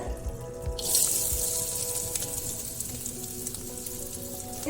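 Coconut pieces drop into hot coconut oil in a pan and start a bright, steady sizzle that jumps up suddenly and then keeps crackling evenly, close and moderately loud with no talking.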